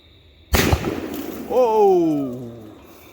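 An AR-15 aerial firework shell from Cutting Edge launches with a loud sharp burst and crackle, then breaks into a long descending whistling screech that fades over a couple of seconds, outdoors at night.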